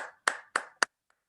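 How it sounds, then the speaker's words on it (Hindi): Three sharp, evenly spaced hand claps ring out close by, followed by a faint fourth tap, in an otherwise quiet room as a speaker is welcomed at an inspirational talk. "मैं आप सबकी तालियों के बीच में दोबारा से इनवाइट करना चाहता हूँ ज़ोरदार तालियों से गुनिका सोनी"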